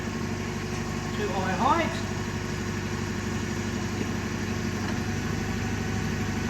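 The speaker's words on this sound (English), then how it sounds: "I'm going to test the hydraulics of the mast. So I will raise the mast up" A forklift engine idles steadily at close range while its hydraulic mast is raised, a constant low rumble with a brief rising whine partway through, and a person talks over it.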